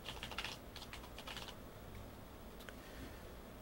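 Typing on a computer keyboard into a caption text entry box, a quick burst of close, crisp key clicks for about a second and a half, then a few scattered taps over a low background hiss.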